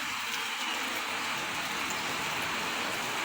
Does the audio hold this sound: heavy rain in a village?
yes